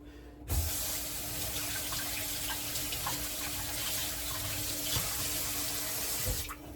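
Tap water runs steadily from a faucet into a sink while hands are washed during rice ball preparation, a continuous close splashing rush lasting several seconds before cutting off.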